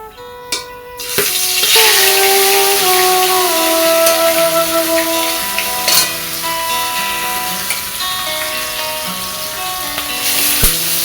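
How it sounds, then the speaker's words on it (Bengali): Fish sizzles and spits in hot oil in a wok in a village kitchen, a loud, steady frying hiss that runs continuously from start to finish with no talk. "এখন মাছটা ভাজবো"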